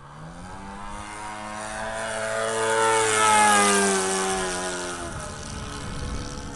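A small engine drones steadily, its whine rising in pitch as it approaches and then falling away, a Hangar 9 Twist 60 model plane with a Saito 100 engine buzzing past overhead.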